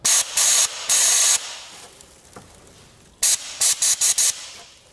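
Sandblasting device spraying quartz sand, with loud hissing bursts of air: two long blasts, a pause with faint clicks, then a quick series of short spurts, close up.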